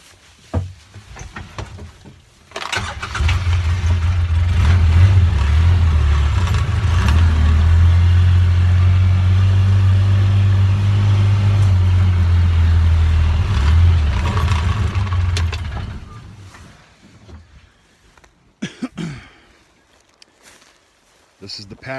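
A Ranger utility vehicle's engine runs steadily in a cattle pasture, a loud low rumble holding for about twelve seconds before fading, with a voice speaking nearby and footsteps around it.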